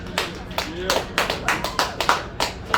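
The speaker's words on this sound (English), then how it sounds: "Give yourself a round of applause for showing up today." A small gathering at an outdoor harvest day event claps: a dozen or so distinct, sharp claps in a loose, uneven rhythm, fairly close, rather than a dense wash of applause.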